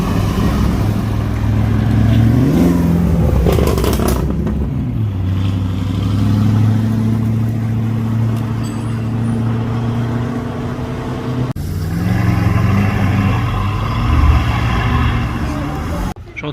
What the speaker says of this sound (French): J'ai entendu un V12, il y a la 812 qui part.